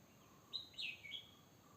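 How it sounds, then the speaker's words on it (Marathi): In a quiet forest, a few short, high bird chirps sound faintly at a distance over soft background hiss, lasting about a second. "पक्ष्याचा आवाज ऐका"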